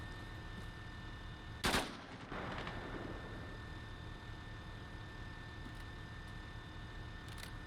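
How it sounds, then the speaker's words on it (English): A single video-game gunshot cracks loudly once, fired toward a tree line, followed by a shorter burst of noise as it echoes off; a steady low rumble of the game world runs beneath, with no talk. "keep a slow rate of fire, like every 12 seconds, put a round into that tree line"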